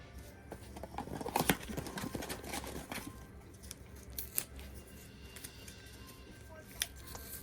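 Scissors cut the center out of a colostomy bag, making close, irregular snips and crinkling plastic sounds, with sharper clicks scattered over several seconds and no clear talk.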